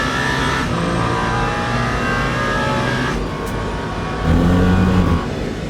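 A Cadillac race car at Le Mans in Le Mans Ultimate roars loudly and close through the Ford curves, holding a sustained engine note that climbs and shifts, with a deeper surge of acceleration near the end and no talking.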